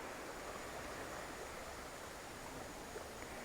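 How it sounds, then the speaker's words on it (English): A soft, continuous rush of flowing river water, even and unbroken, faint and with no voices. "You can hear the calmness of the water."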